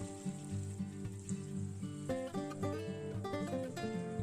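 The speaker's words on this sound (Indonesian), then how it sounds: "langsung saja goreng kentangnya seperti ini" Potato fritter batter frying in hot oil over medium-low heat, a steady close sizzle and crackle running throughout with a faint tonal hum underneath, no one talking.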